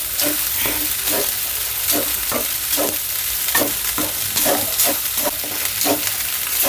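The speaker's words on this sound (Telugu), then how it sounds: "ఇప్పుడు ఇందులో మనం ముందుగా వేయించి పెట్టుకున్న పన్నీర్ వేసేసి దీన్ని కూడా హై ఫ్లేమ్లో టోస్ట్ చేసుకుందాం" Paneer, pre-fried, stir-fried on high flame in a pan with cabbage, beans and carrots for paneer fried rice: loud continuous sizzle with regular close scraping strokes about twice a second, no voices.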